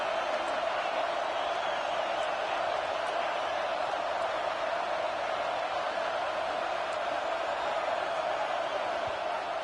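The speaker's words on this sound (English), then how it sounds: "This crowd is trying to inspire this defense to make a big red zone stop." A stadium crowd in the College Football 26 video game roars as a broad, constant wash of noise, steady and loud with no breaks, swelling behind a red zone defensive stand.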